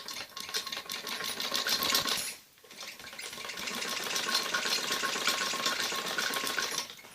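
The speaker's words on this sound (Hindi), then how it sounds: "हमारे गले पे सिलाई लग गई ब्लाउज के और गला तैयार हो गया" A sewing machine stitches the neckline of a padded blouse with a loud, steady, rapid mechanical whir close by. It stops briefly for a short pause, then resumes its continuous running until near the end.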